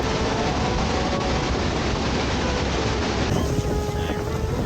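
Roaring water crashes at Niagara Falls close to the waterfall, a loud, dense, continuous rush mixed with wind buffeting the microphone, with no break across the whole stretch.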